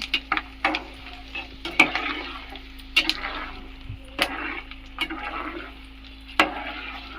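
Tomato pickle stirred in a pan with dried red chillies, with intermittent sharp spoon scrapes and knocks over a soft, low sizzle and a steady hum.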